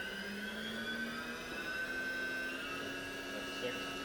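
The spindle of a Haas 4-axis vertical machining center with a 10-station automatic tool changer winds up from around 3,000 RPM, a steady close whine with rising tonal pitch lines over a constant machine hum.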